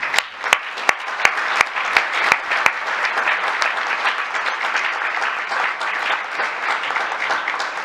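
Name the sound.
audience applause for student musicians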